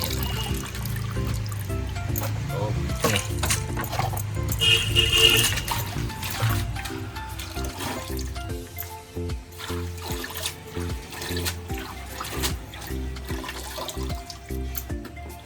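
Water splashes and trickles while fenugreek leaves are swished and rinsed, louder early on, then settling into softer dribbling with scattered clatter.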